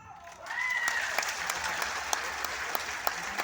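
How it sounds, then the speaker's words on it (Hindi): Audience applause fills a hall, rising quickly and holding steady with scattered sharper claps standing out near the front. "इतनी ताली? हाँ जी, बस इतनी ताली"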